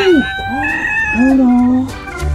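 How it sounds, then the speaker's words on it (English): At a farm, a rooster crows close by in a loud, wavering call, mixed with clucking fowl and brief voices. "That's a rooster."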